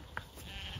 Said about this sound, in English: Sheep, sheep! Don't jump on me.